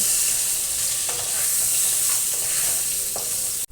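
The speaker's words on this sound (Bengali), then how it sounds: "আলুটা লাল লাল করে ভেজে নেব।" Potato pieces fry in hot oil with salt and turmeric, a loud, close, continuous sizzle broken by a few spatula scrapes as they are turned, ending in a sudden short break.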